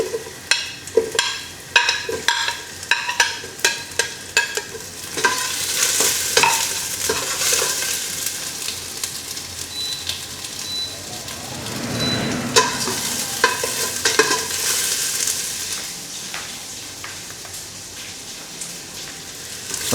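Onions hiss and sizzle steadily in a hot pan, with clattering spatula scrapes and stirring knocks, while chicken stir-fry is being made. The sizzle carries on alone without any talk.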